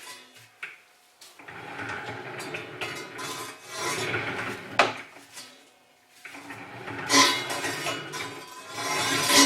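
A grinding, rasping scrape of a rock slab saw blade against a stone wheel repeats in long strokes, rising and fading with each pass.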